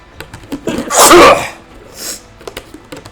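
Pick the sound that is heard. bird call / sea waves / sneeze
sneeze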